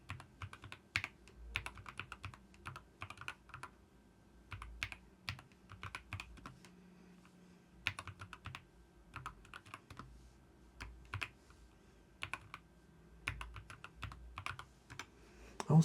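Typing on a Keychron K2 HE mechanical keyboard, bursts of soft, close keystrokes in quick irregular runs separated by short pauses, with no talking.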